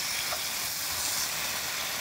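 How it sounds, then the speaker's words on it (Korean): Marinated pork belly sizzles in a frying pan, giving a steady, loud, close hiss and crackle with no talking. "자, 그럼 요거 가지고 제가 후라이팬에 좀 구워볼게요"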